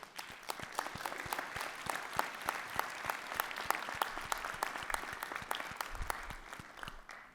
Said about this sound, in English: I would welcome an applause for Kathy Williams.